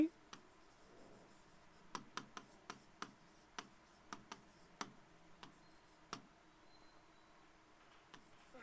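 A pen or chalk taps and scratches out short strokes during a history lesson, in quiet, irregular clicks spread through a faint, still room.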